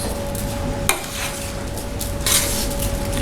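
Soaked rice being stirred with fried tomato paste and spices in a pot, a steady close sizzle with a sharp scrape of the utensil near one second and another burst of scraping later.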